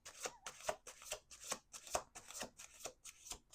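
Tarot card deck shuffled by hand in about eight quick, crisp riffling bursts evenly spaced, close and clear with no talking.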